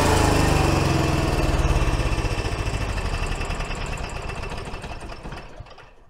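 An Onan QG 3600 LP generator on a Winnebago runs steadily with its cover off, a loud, close engine drone that holds even and then eases slightly toward the end, with no talk over it.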